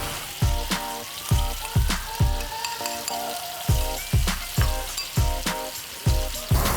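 Chili paste and tamarind frying in oil in a wok: steady sizzling broken by regular scraping and stirring strokes about every half second, close and fairly loud, with no talking.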